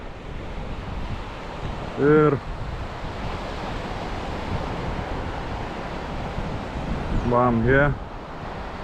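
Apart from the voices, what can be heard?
wind at the seashore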